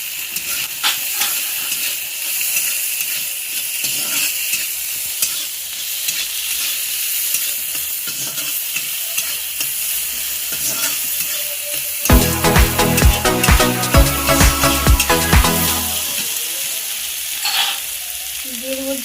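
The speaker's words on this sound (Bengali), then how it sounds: "এবার দিয়ে দেবো রসুন বাটাটা" Garlic paste frying in a pan for a red amaranth greens dish gives a steady sizzling hiss with stirring scrapes, then a louder, crackling burst of sizzle around the middle that gradually settles back down.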